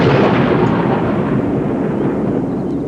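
Thunder from a rainstorm in southwest Africa rolls as a deep, continuous rumble, loud at first and slowly fading over a few seconds.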